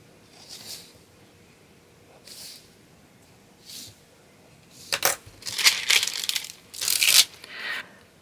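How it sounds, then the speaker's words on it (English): Polymer clay is trimmed around a pressed leaf with a blade, giving a series of short scraping, tearing strokes that grow louder and busier toward the end, close and without speech. "I'm just going to cut away all the excess."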